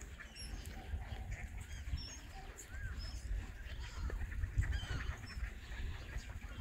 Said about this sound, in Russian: кормить лебедей, уточек